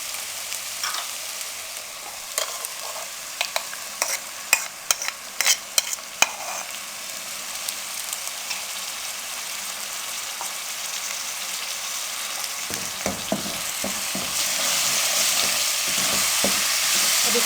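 Tomato paste frying with fish qorma masala in a pan: a steady hiss of sizzling oil broken by sharp scraping and stirring clicks, with the sizzle swelling louder toward the end; no talking.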